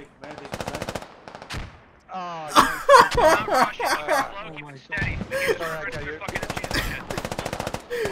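Rapid automatic gunfire in the tactical shooter Operation: Shockwave, with an AK rifle firing in sharp repeated bursts, close and loud, broken by short pauses while players talk over the action.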